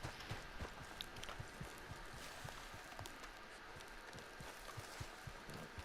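Horse hooves clip-clop in Red Dead Redemption 2, a quiet, regular walking rhythm of soft thuds continuing steadily throughout with no voices.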